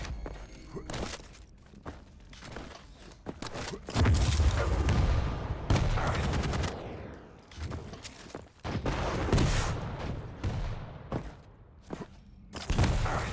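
Rocket launcher fire in a fast arena shooter duel match: repeated booming rocket blasts and explosions with thuds and jump sounds, loud and dense throughout, coming in bursts under an energetic stream of game action.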